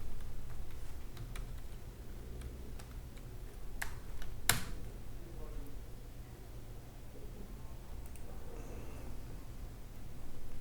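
An electronic typewriter printing out a line: a quick run of sharp mechanical clacks and ticks, fairly close, with one louder strike midway over a low background hum.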